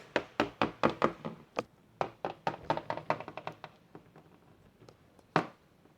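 Knocking on a house door as guests arrive: a quick run of sharp, close raps, a short pause, then another irregular burst of softer taps and one final loud knock, with no talking.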